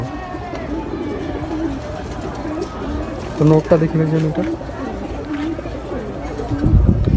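Racing pigeons coo in a loft at a pigeon farm, low soft calls heard close by under a man's conversation, with one clearer coo midway.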